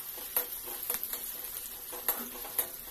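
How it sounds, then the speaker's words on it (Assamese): Chopped onions frying in hot oil while being stirred, with a steady close sizzle and repeated scraping strokes of a spoon in the pan. "তেলখিনি পিঁয়াজ দিছোঁ, অকণমান লৰাই দিছোঁ"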